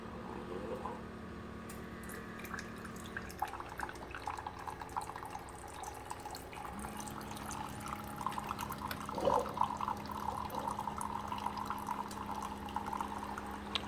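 Four Keurig machines, a K Slim, K Select, K Duo and K Cafe, brewing 8-ounce cups through reusable K-Cup pods, with soft continuous trickling and dripping, a low pump hum and faint gurgles, fairly quiet and steady.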